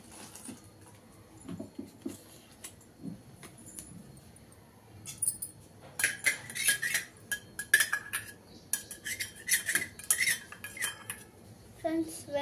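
A spoon stirring fried dry fruits into sheer kurma in a pot, scraping and clinking against the metal in busy bursts that grow louder and denser toward the end, with no talk.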